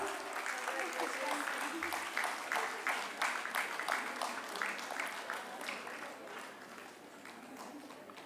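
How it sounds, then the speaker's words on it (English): Audience applauds prize winners at a Women's Day celebration at SIMATS Engineering, with steady, moderately distant clapping from a crowd that slowly fades. "Kindly give a round of applause,"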